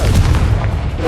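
A Confringo blasting spell detonates in Hogwarts Legacy, a heavy, continuous low boom that rumbles loud and close for about a second with no pause.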